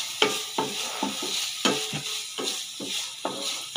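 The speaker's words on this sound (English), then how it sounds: "Then after 5 minutes, stir it again." Pork adobo with camote tops being stirred in a pan, rhythmic repeated spatula scrapes about every half second over a soft sizzle, close and fairly loud.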